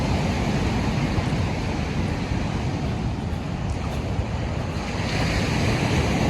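Surf washes steadily onto a beach at Port Maria, St Mary, the day after heavy rain and flooding, a constant loud roar of waves with wind buffeting the microphone and no voices.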